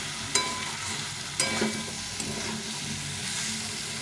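Cauliflower and potato curry sizzles in a hot pan, a bright close hiss of frying with a few distinct spatula scrapes and taps early on, then steady frying noise.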